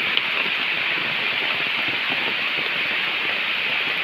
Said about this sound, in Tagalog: Hintay na lang natin mga Pinoy tumilang ulan.